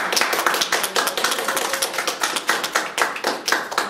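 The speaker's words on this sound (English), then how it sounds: "Give like a brief round of applause." Small audience giving a brief round of applause after a panel discussion on identity, politics and gender-based violence, scattered close hand claps forming an uneven patter with a few sharper individual claps.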